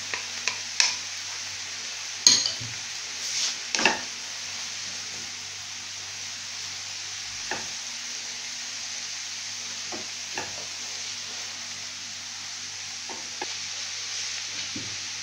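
Zucchini stirred in a hot frying pan gives a steady soft sizzle, with scattered scraping clicks from a utensil against the pan, loudest early on and quieter later.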